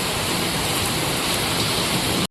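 Heavy rain falls hard and steady, a loud dense hiss that runs unbroken before cutting off abruptly.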